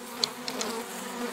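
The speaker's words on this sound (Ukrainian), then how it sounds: "Бджолу розбурхав." Agitated honeybees at an opened hive, a dense close buzzing hum with a few sharp higher whines from individual bees darting near.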